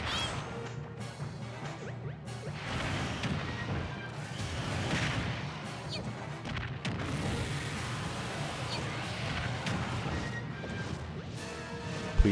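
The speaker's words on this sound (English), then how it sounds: "There's also earthquakes, that's not good." An earthquake stage hazard rumbles through a Super Smash Bros Ultimate match, a steady, dense crashing roar scattered with impacts and thuds that carries on throughout.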